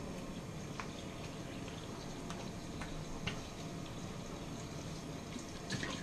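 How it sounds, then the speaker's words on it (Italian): Cold tap water runs steadily to rinse a shaving bowl, a low continuous trickle punctuated by faint clicks and drips, quiet and close. "Acqua fredda per sciacquare."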